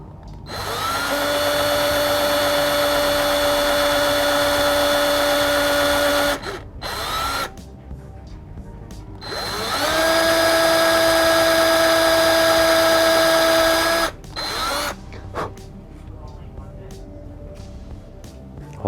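Power drill boring screw holes in a Squier Stratocaster headstock to mount locking tuners, two loud sustained whining bursts close by, each spinning up and then stopping, with handling noises between.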